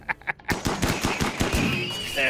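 Rapid bursts of gunfire in the RimWorld video game, a quick run of sharp cracks that blur together, then a rising electronic tone at the end, fairly loud.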